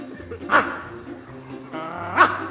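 A dog gives two short barks about two seconds apart, close by and fairly loud, over a quiet background hum.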